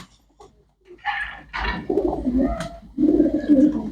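Pigeons coo in low, rolling phrases close by, two clear bouts separated by a brief pause, with no voices.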